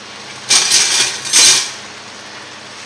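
A salad bowl and utensils clatter as crème fraîche is added, two loud, close bursts of metal-on-bowl scraping and clinking about a second apart, then quiet.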